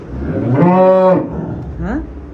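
A large dairy cow, eight to nine months pregnant, on a dairy farm in Savar gives one long, loud, close moo, followed a moment later by a shorter, rising second call.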